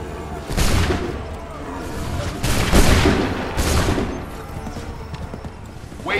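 Soldiers in Assassin's Creed III fire a volley of muskets, producing several loud booming cracks spread across a few seconds that ring out and trail away amid background battle noise.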